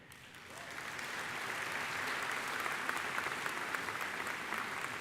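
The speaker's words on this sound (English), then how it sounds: "so that we can give them a round of applause" Applause from the audience at a university commencement ceremony swells up after a quiet start and holds as a steady, even clapping crowd, moderately distant and heard on its own.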